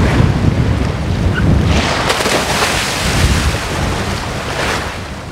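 High Mediterranean swell surges and crashes around a boat, a loud continuous wash of waves and spray with heavy wind buffeting the microphone throughout.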